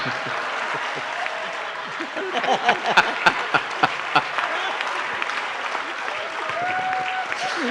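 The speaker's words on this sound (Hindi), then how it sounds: "जब तक पूरा हाल ताली नहीं बजाएगा ये हाथ नीचे नहीं आएगा।" A hall full of listeners at a poetry recital claps steadily, the applause rising into a few sharp, louder claps in the middle before settling into an even wash, with a voice speaking briefly over it.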